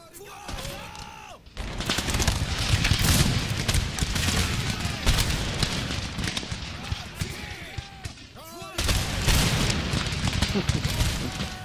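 Musket and cannon volleys fire in a European land battle in the Empire: Total War strategy game, a dense, continuous crackle of gunfire with heavy booms rolling through almost the whole stretch, loud and sustained with only a brief lull.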